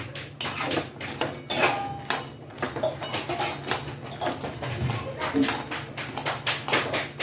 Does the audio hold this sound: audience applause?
no